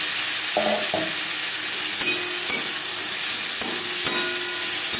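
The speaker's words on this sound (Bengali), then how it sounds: "জিরে ভেজে নেওয়ার পর দিয়ে দেবো পেঁয়াজ টমেটো" Onion and tomato go into hot oil with frying whole cumin, left over from frying fish for a Chela fish curry, giving a steady close sizzle and hiss with a few stirring clinks and no talk.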